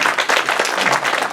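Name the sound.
applause in church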